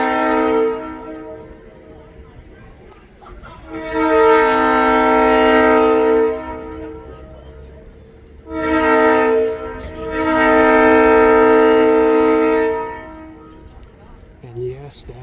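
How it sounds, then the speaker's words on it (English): A train horn sounds two long, loud, blaring blasts separated by a short gap, with background noise in between at an airport where a Boeing 757-200 is operating. "And yes, that is a train horn you are hearing."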